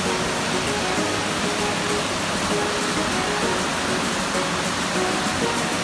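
Loud, constant rushing of the Myra Falls waterfalls in Austria, a broad roar with no break from start to finish.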